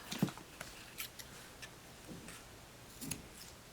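Scissors snip off excess ribbon on a graduation money lei, a few quiet, sharp clicks spaced apart against a faint background.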